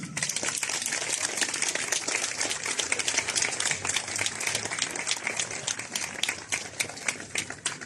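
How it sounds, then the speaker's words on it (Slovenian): An outdoor crowd at a pro-life march in Maribor applauds with dense, steady clapping that holds at an even level throughout, with no voices heard. "Zaploskajmo Zavodu Živim."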